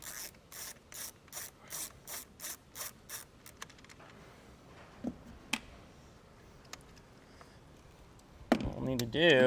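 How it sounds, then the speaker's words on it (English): A 13 mm ratchet clicks in a steady run of about nine evenly spaced bursts while removing a nut during installation of a Roadmaster automatic battery disconnect. A few scattered knocks follow, then louder handling noise closes it. "we can switch over to a 13 millimeter and remove this nut here."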